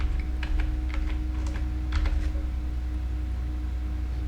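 Short bursts of computer keyboard typing, a few quick close key clicks over a steady low hum, then only the hum continues.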